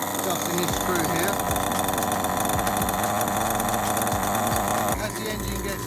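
A Kyosho Inferno Neo nitro RC car engine idles during break-in, a steady buzzing drone close by that holds level for several seconds before dropping slightly, with someone talking over it.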